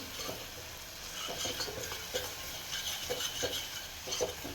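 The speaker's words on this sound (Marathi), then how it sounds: "बेडगी मिरची पावडर आणि हे चांगलं तेल सुटेपर्यंत आपण परतून घेऊया" Byadgi chili powder sautéed in oil for a mutton curry, a soft continuous sizzle with irregular scraping stir strokes of a spoon in the pan, close and steady, without talk.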